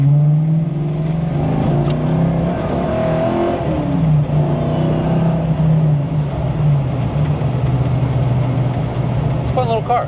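A Ford Foxbody Mustang, recently fixed with a GM idle air control valve, pulls steadily under acceleration, its engine drone loud and continuous from inside the car for the whole stretch.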